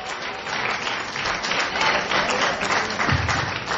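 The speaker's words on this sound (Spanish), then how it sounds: "Denle aplauso al Señor," A church congregation applauds during a Spanish-language sermon, a dense, continuous wash of clapping that holds steady and fairly loud from start to finish.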